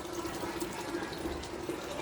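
Water runs steadily into a hydroponic lettuce growing system, a continuous faint trickle and splash that holds at an even level throughout with no talking.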